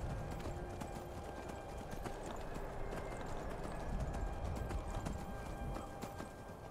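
Horse hooves in the video game Skyrim, a black horse trotting with a steady clip-clop rhythm, moderately close over a low ambient bed with no speech.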